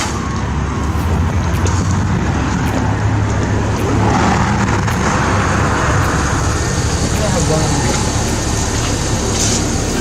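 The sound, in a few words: city bus arriving in downtown Calgary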